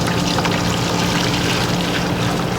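Yuzu pickle brine poured into a bowl in a kitchen, a short, steady, close splashing pour of liquid without pauses or talking.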